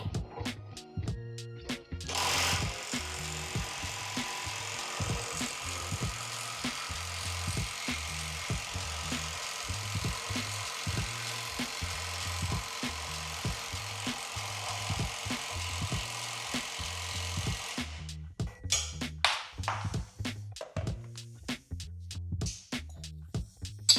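A GISAM impact wrench rated at 1800 Nm runs at full power against a tight nut, giving a loud, steady mechanical hammering rattle that lasts about sixteen seconds before stopping, followed by scattered clanks.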